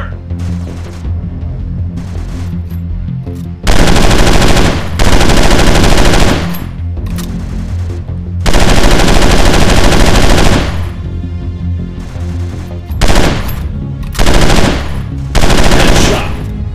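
Loud automatic gunfire in the mobile shooter game Free Fire, long sustained bursts of rapid shots that alternate with shorter volleys and brief gaps over a constant game background.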